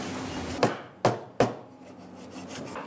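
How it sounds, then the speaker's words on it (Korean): Knife cutting meat on a cutting board in a kitchen: three sharp chopping thuds spaced a little apart, then quieter faint taps, close and clear with no talk. "고기 썰고 계십니다."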